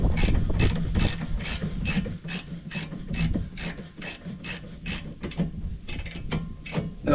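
A hand ratchet clicks in rapid, regular bursts of about fifteen strokes while tightening a front brake caliper bracket on a 2015 Ram 2500 pickup, close and crisp with no talking.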